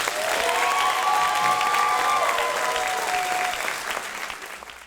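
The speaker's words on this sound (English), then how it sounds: "Ladies and gentlemen, please give a round of applause" Audience applause and cheering at a fire academy recruit graduation ceremony, a sustained wash of clapping from a large crowd with a few whistles and shouts, gradually fading.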